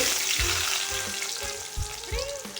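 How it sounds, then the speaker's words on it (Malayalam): Mustard seeds and garlic frying in hot oil for a chicken curry, a steady crackling sizzle with sharp popping seeds and low stirring thumps throughout. "നല്ല ചൂടായിട്ടുണ്ട് അതിലേക്ക് കടുകിട്ട് കൊടുക്കും"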